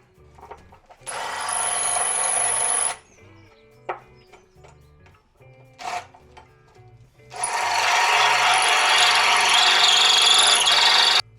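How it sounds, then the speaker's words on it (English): Two long bursts of a loud power drill whirring at steady speed through metal brackets, separated by a pause with a few faint clicks and taps. "Now it's just time to drill through the brackets I'll be using."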